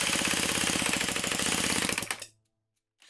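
A 3D printed gas engine being turned over, a loud, fast rhythmic mechanical chatter of cranking that runs steadily for about two seconds, then cuts off abruptly into silence before a faint restart at the very end.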